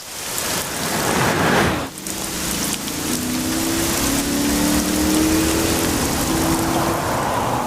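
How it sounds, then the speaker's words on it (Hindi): Heavy rain pours down steadily and loudly, a dense hiss throughout, with a faint engine drone passing underneath. "एक तो आज बारिश भी बहुत तेज है"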